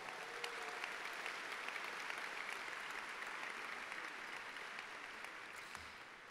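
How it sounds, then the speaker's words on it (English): Steady applause from a school and community celebration audience, a dense wash of clapping hands that carries on unbroken and fades slightly toward the end. "let's give them a round of applause"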